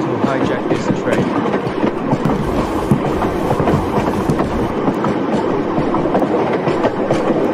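Train running in a video game, a continuous loud rumble with rhythmic clickety-clack of wheels over rail joints, heard close with no pauses.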